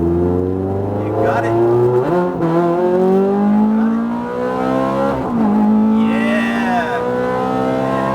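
A Ferrari F430 accelerates hard on a track, its engine note climbing steadily through the revs with a brief shift and renewed climb, loud and close, while a person speaks briefly over it.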